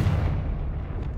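Confringo spell explosion in the video game Hogwarts Legacy, a heavy low boom that rumbles and fades away over about a second.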